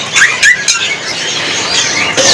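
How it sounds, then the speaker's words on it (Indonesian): Nuri Dora lorikeet parrots calling at an Indonesian bird market, with short bright chirps and squawks repeating in bursts against a busy market background. "ini kalau yang ini dari burung jenis nuri. Nuri Dora, Mas. Nuri Dora."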